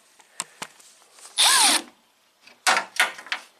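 On a 1991 Audi 200 Quattro 20V Turbo, a power tool works an intercooler bolt in short bursts: a loud whir spinning up and down, then a couple more quick zips between faint clicks and clatter.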